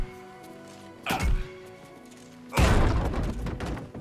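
In Baldur's Gate 3, a melee weapon strikes a wooden barricade twice, a dull thump followed a second later by a louder crashing smash with splintering debris settling after it.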